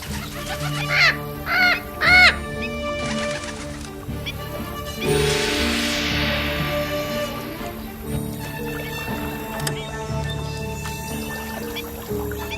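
A cartoon bird in an animated Hindi fairy tale gives a few short, rising squawking calls near the start, followed by a whooshing swell and layered musical background that carries on to the end.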